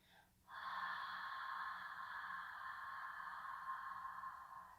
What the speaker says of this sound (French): une respiration un peu plus bruyante qu'on entend. J'exagère là, je le fais avec la bouche ouverte